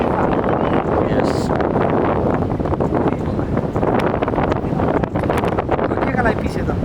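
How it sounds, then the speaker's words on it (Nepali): Strong wind at Kanchangadi buffets the microphone with a loud, continuous rumbling roar, and voices are faintly audible beneath it. "कस्तो हावा चलेको"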